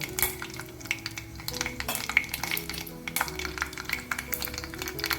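Mustard seeds, cumin and asafoetida hit hot oil, crackling and spitting in quick bursts with occasional metallic clinks, while soft music plays underneath.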